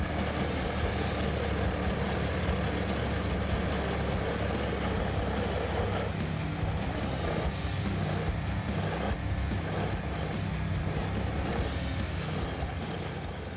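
A tracked Caiman Expert ATV and a Toyota Land Cruiser locked in a winter tug of war, their engines droning in one loud, continuous roar that shifts slightly in tone partway through.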